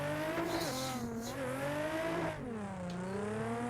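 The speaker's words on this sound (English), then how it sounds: "Now this time I'm going to clutch kick it through it." A drift car is clutch-kicked through a transition, its engine revving hard with rising and falling pitch as the revs swing, heard steady and fairly close, with no voices.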